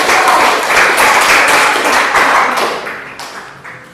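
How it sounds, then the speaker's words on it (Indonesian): A class of students claps for a group that has just presented, a dense burst of hands that thins out and fades toward the end. "Tepuk tangan buat kelompok"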